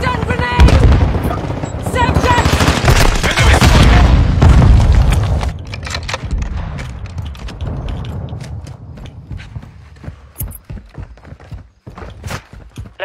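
A stun grenade goes off in a first-person shooter video game amid a firefight: loud heavy booms and rumbling blasts early on, then scattered sharp gunfire cracks and clattering that thin out toward the end.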